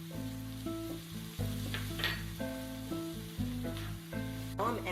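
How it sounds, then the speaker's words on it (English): Ground turkey, onion and garlic sizzle steadily in a hot pan while being stirred, a close, continuous frying hiss under a repeating tonal pattern of background music, with no talking. "So now I've added my ground turkey. I'm mixing together my turkey, onion, and garlic."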